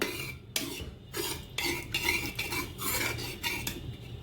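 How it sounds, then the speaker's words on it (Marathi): Spinach mixture with tempering being stirred in a cooking pot, a spoon scraping the metal in repeated close, loud strokes at a steady pace, with no talking. "छान मिक्स करून घेऊया."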